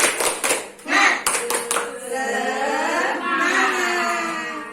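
A school class claps a short rhythmic clapping pattern in sharp bursts, then children's voices chant together loudly in unison.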